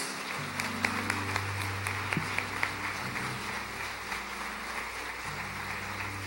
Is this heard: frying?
no